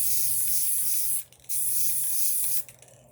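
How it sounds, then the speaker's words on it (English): Gold spray paint hissing from a can onto a ceramic tile, in two close, steady bursts separated by a short pause. "I'm just going to spray it on there."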